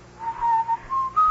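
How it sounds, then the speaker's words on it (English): A person whistles a slow, clear melody, the old parlor tune "Love's Old Sweet Song", a few sustained notes that waver and then step up in pitch, close and alone over a faint background hiss. "Why do you keep whistling that song?"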